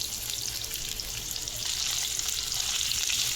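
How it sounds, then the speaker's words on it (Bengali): Potatoes frying in oil with black cumin and green chilies, a loud, continuous close-up sizzle that swells slightly partway through, with no voices. "আলু ভাজা হয়ে গেছে,"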